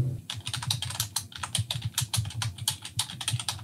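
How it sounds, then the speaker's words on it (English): Quick, uneven keystrokes clatter on a computer keyboard up close, a steady run of crisp taps with no talking. "You're using a keyboard."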